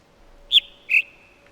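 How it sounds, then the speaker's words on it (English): A bird in the video game The Witness gives two clear, high whistled chirps in quick succession, the first higher and the second lower, over a quiet background with a faint steady hum. "You can hear a bird if you stand right here."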